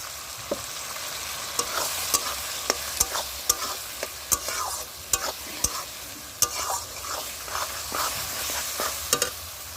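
Green chili and ginger-garlic paste frying in a pan for chicken kosha, a close, steady sizzle punctuated by a dozen sharp spoon clacks and scrapes as it is stirred.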